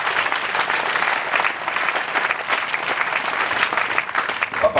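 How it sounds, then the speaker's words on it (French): A church congregation bursts into steady, loud applause for the word of God, sustained and dense throughout with some voices mixed in. "Est-ce qu'on peut donner une acclamation pour la parole de Dieu?"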